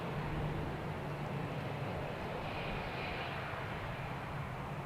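An Airbus A380 airliner at Amsterdam Schiphol Airport gives off a steady, broad jet roar, a continuous rumbling wash of engine noise at even loudness with no talking.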